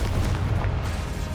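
A Confringo blasting spell going off in Hogwarts Legacy, a dense, rumbling explosive boom with a heavy low-end body that sustains throughout the short burst, loud and close with no talking.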